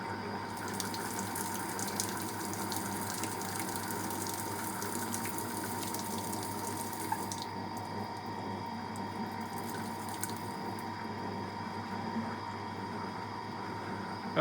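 A Smart Drive washing machine fills with cold water for its rinse cycle, a continuous, even rush of water with a low pump-like hum and a slight change in tone partway through.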